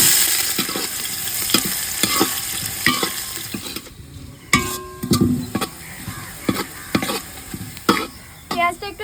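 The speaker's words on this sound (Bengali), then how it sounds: "পেঁয়াজটা একটু ভেজে নিয়েছি" Chopped onion frying in oil with whole cardamom, cinnamon, cloves and bay leaf, a close steady sizzle under repeated scraping stirs of a spatula against the pan, with some clinks partway through and no talk.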